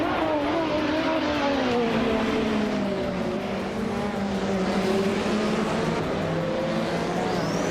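Group 5 race cars, led by a 1978 Porsche 935/78, racing through the Zandvoort chicane with a loud, continuous engine roar whose pitch rises and falls as they accelerate and brake.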